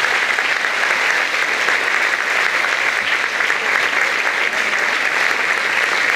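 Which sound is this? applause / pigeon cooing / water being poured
applause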